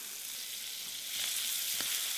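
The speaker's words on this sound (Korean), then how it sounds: "양파와 마늘을 먼저 볶아주세요." Sliced onion and garlic sauté in butter in a pan, a steady close sizzle and bright frying hiss that swells slightly midway, with no voices.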